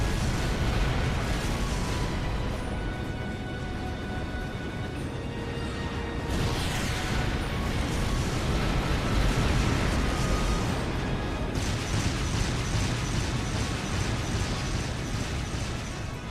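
Tank cannon fire and explosions in the game Trails of Cold Steel, a continuous loud rumbling barrage of booms and bursts with mechanical clatter throughout and no talking.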